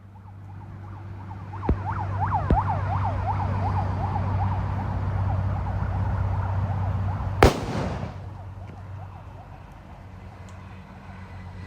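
One sharp, loud Diwali firecracker blast goes off outside, a single crack with a short ringing tail, set against a steady hum and faint whistling rockets and pops in the distance.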